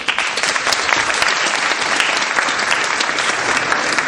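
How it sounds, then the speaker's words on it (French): Dense, loud audience applause at a formal event with French officials in Elbasan, Albania, a continuous wash of many hands clapping throughout with no voices on top. "Je vous demande d'applaudir."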